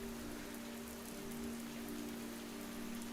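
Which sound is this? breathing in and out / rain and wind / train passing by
rain and wind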